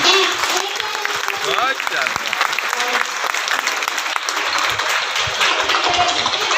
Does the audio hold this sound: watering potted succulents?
no